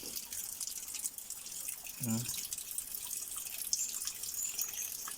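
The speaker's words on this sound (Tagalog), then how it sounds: "So konti lang pala yung pumapasok ng tubig." A thin trickle of water flows into a water tank with a soft continuous splashing hiss, while a brief voice or low sound cuts in midway.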